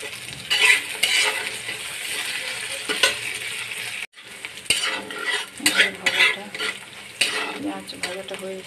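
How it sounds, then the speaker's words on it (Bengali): Chopped onions with salt fry in a pan with a steady sizzle, while a utensil scrapes and clinks against the metal in irregular stirring strokes throughout. "পেঁয়াজ ভাজাটা হয়ে গেছে"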